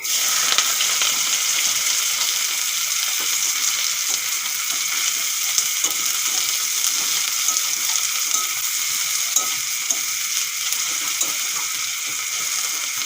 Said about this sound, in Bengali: তেল গরম হয়ে গেছে দিয়ে দেব জিরা কেটে রাখা পেঁয়াজ দিয়ে দেবো